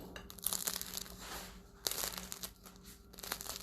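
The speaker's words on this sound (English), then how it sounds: "Can you hear that crunch?" Crusty homemade bread baked in a Dutch oven crackles and crunches as it is handled or cut, with sharp crisp bursts and a louder crackle near the middle, close and fairly quiet, with no talking.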